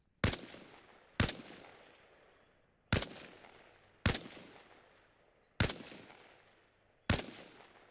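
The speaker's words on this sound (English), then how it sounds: "I want to hear 5 shots." Rifle shots fired at targets in Arma Reforger: six sharp, loud reports spaced about a second or more apart, each trailing off into a long echoing decay.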